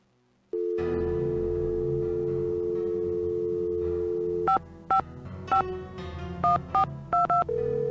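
Telephone dialing tones on a ticket booth phone in the Nancy Drew video game: a long steady dial tone, then a quick series of short keypad beeps in uneven rhythm, clear and close.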